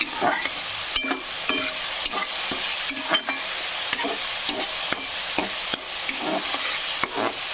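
Red chillies frying in hot oil give a steady, close sizzle, broken by repeated scraping clicks of a stirring utensil, with no voices.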